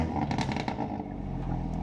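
A car with a newly installed Whoosh downpipe revving, a loud, continuous raspy exhaust roar with rising and falling engine pulses, close up and alone.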